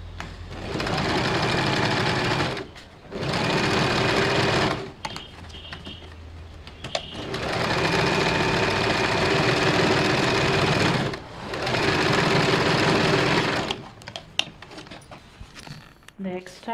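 A sewing machine stitches a simple blouse in loud, steady whirring runs, stopping and starting several times with short pauses and small handling clicks in between.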